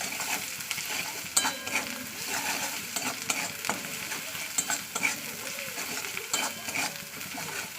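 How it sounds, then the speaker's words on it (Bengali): Spices with turmeric and salt stirred and fried in oil in a pan, an even sizzle broken by frequent scraping strokes and light utensil clinks, close and without speech. "ভালো করে কষিয়ে নিচ্ছে মশলার সঙ্গে তেলের সঙ্গে"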